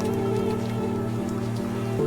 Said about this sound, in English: The first raindrops began to fall.